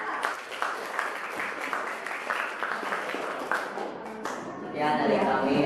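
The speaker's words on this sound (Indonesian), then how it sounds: "kasih tepuk tangan untuk kelompok" Applause for a student group in an Indonesian classroom lesson: a steady patter of many hands clapping throughout, swelling louder at the end, with voices mixed in.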